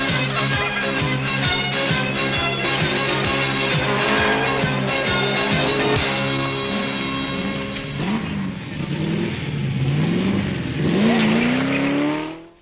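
Triumph TR7 rally car on a tarmac and gravel special stage of the 1978 Manx Rally, its engine loud and close as it rises and falls through gear changes and sustained revving, with a brief tyre squeal toward the end.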